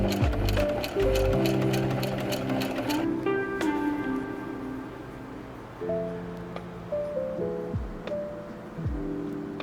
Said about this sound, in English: I'm going to use this opportunity to sew the neckband together.